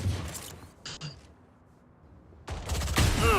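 Valorant gunfire crackles in short bursts: a sharp shot at the start, a couple of quick reports around the middle, then a loud, dense volley toward the end, with quiet gaps between.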